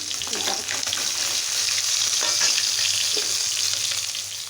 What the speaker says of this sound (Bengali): আর এইদিকে এরকম মাছ ভাজা হচ্ছে।